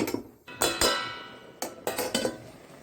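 A metal lid goes onto a cooking pot of pumpkin stem and leaf curry with potato, making a few sharp clanks and clinks with ringing decay and short pauses between them.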